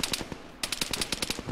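Machine gun fire in the video game Arma rattles in quick sharp bursts, loud and close, with a short pause before a second longer volley of rapid shots.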